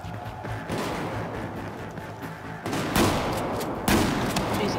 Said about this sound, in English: All of them are freaking shotguns.